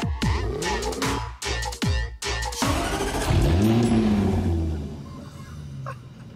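A fast car accelerates hard on the German Autobahn, its engine revving up in sharp bursts through several gear changes, then settling into a loud, sustained high-speed drone that fades as it goes.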